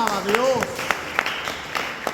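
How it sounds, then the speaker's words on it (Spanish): Rhythmic clapping during a church worship service, with steady beats under a prominent voice. "dale un aplauso a Jesús"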